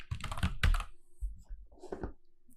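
Someone types C code on a computer keyboard, quick clusters of close clacking keystrokes with short gaps between bursts, no voice.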